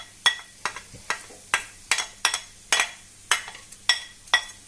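Chopped peppers, garlic and onion tipped into a hot pan for a chicken feet and chorizo stew, giving a series of about a dozen sharp, close sizzling bursts at a steady rhythm, each fading quickly, with no talking.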